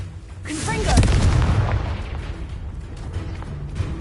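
Fiery spell blast booms in a Hogwarts Legacy duel, a single heavy burst with a rumbling tail amid game battle noise, with a voice speaking around it.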